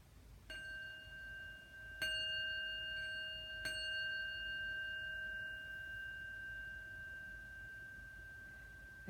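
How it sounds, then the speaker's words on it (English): Bell rung during a calming breathing exercise for children, three clear metallic strikes whose pure ringing tone sustains and slowly fades, close and alone in a quiet room. "So I'm just going to ring the bell now."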